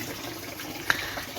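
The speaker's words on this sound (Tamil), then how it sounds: "இந்த பக்கம் பார்த்திங்கன்னா தண்ணி வந்துட்டு இருக்குது" Tap water running steadily into a sink at a farm home, a faint continuous splashing trickle with one brief clink near the middle, no voices.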